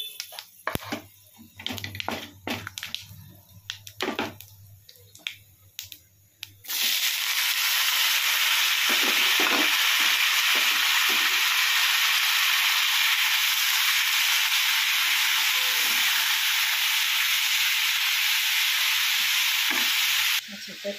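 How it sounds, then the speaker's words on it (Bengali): Bay leaf, dried red chilli and Bengali five-spice hit hot oil for mung dal with bottle gourd. A few seconds of light clinks and handling lead to a sudden loud, steady hiss of frying that stays close and sustained. "এবার দেব তেজপাতা, শুকনো লঙ্কা আর 5 ফোড়ন"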